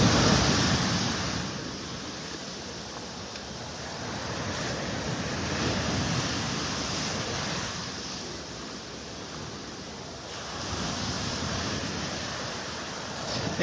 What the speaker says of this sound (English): The sound of those waves is kind of nice.